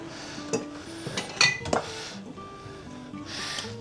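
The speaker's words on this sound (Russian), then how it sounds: "здесь я взял сковородку" A metal frying pan clanks and scrapes against a gas stovetop, with a few sharp clinks of cookware among quieter background sounds.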